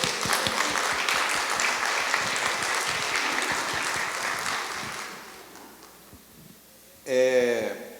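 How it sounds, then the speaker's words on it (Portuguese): A church congregation applauds for the families during a Sunday morning service, a dense burst of clapping that gradually thins and fades over about five seconds, followed by a short loud voice near the end. "pedir à igreja glória a Deus e uma salva de palmas para as famílias"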